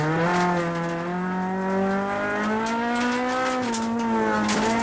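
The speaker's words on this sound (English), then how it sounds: "That's certainly wringing the neck of that engine" Rally car engine at Tour Natal 2011, revving hard and held at high revs with steady harmonic pitch that rises and dips slightly, loud and close, as from an onboard position, with no speech.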